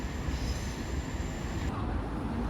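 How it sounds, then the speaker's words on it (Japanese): Shinkansen and Kintetsu Line trains run past each other near a crossing, giving a steady, close, loud rolling rumble with a high whine that cuts off partway through. "ちょうど新幹線と近鉄線がクロスするように走ってます。"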